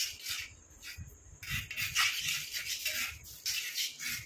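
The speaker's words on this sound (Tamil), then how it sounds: "இப்போ அது அப்படியே நம்ம இந்த இரும்பு கடாயில் கொஞ்சம் கொஞ்சமாக ஊற்றி நம்ம மிக்ஸ் பண்ணிக்கலாம்" A thick hair-care mixture is stirred in an iron kadai, giving a steady run of close scraping and rubbing strokes with no talking.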